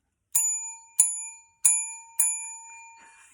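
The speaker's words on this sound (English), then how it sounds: "He found a bell." A small handheld bell rung four times in quick succession, each bright metallic strike ringing out and decaying, fairly close, with no talk over it.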